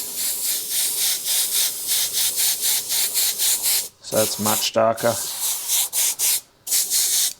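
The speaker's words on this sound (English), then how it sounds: "And then if I spray it out over here, you'll see it change." An airbrush sprays black-grey paint for a tree-and-moon landscape in a series of close, steady hissing bursts separated by brief gaps. A voice speaks briefly in the middle.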